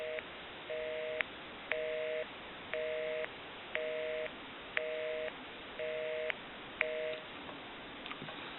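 After dialing its own number, a rotary telephone plays a busy signal: a steady tone pulsing on and off in even half-second bursts, repeating about eight times at moderate loudness.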